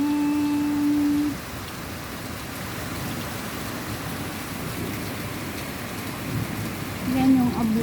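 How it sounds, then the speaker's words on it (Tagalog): Heavy rain pours down in a dense, steady hiss that fills the whole stretch, loud and close, with brief tonal sounds at the start and near the end. "Heavy rain, heavy rain. Here comes the rain"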